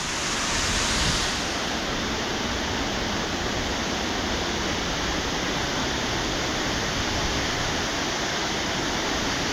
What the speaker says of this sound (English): Now what's unusual about this waterfall is the wall that it drops down is on an angle.